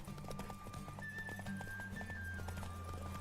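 A horse gallops in a race in The Witcher 3 video game, with fast, steady hoofbeats, a high whinny in the middle and continuous pounding under a low game soundscape.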